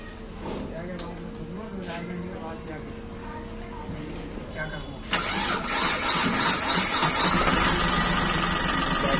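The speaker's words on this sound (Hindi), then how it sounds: "तब भी स्टार्ट हो गई, देख लिया, बैटरी पूरी खत्म थी तब भी स्टार्ट हो गई" A Chevrolet Beat diesel car with new glow plugs and a nearly flat battery cranks and fires up at about five seconds, then settles into a loud, steady diesel idle, with people talking nearby through the cranking.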